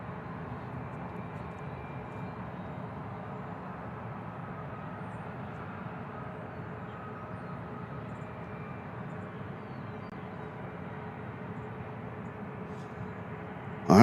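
A Spirit Airlines Airbus A320 at Nashville International Airport gives a distant, steady low roar of jet engines that holds evenly for the whole stretch, with no voices.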